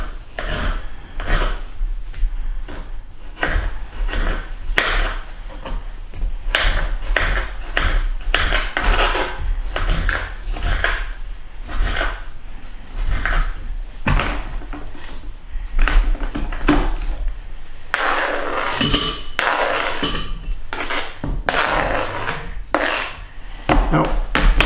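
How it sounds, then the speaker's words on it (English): A knife cuts a tomato into large chunks on a wooden board for a salad, with a steady run of close, crisp chopping and rubbing strokes, alone with no talk. "going to cut the tomato into larger pieces, not dicing it, we're making it to chunks"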